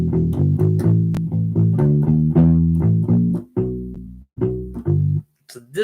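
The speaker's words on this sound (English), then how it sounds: "the turnaround sounds like this" Slow shuffle blues turnaround played on a U-Bass, rubbery plucked low notes in a quicker triplet run, several phrases separated by brief pauses, close and clear, alone without talking.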